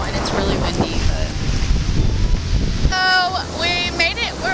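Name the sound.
strong wind on the beach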